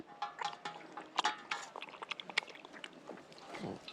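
A pet, a young male called Alfie on an off-grid farm in Portugal, drinks water with quick, faint lapping and dripping sounds, irregular wet splashes close by in a quiet setting.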